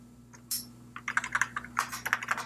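Typing on a computer keyboard while entering 6502 assembly code, a run of close, irregular keystrokes that quickens toward the end over a steady low hum, with no talk.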